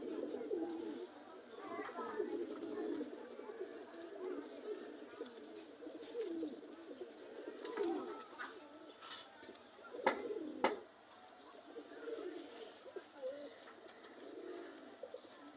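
A flock of Kaldom pigeons keeps up continuous low cooing nearby, with many overlapping voices, a few sharper calls and flutters, and a person talking intermittently underneath.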